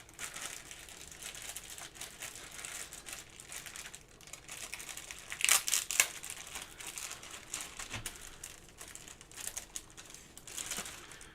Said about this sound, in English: that rustling is, I'm just trying to get the little spike pieces out.